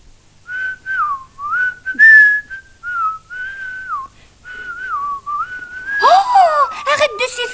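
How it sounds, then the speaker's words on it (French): A person whistles a lively, sliding melody in a French children's television programme, the phrases rising and falling in short runs, with a brief burst of other noise near the end. "Arrête de siffler comme ça"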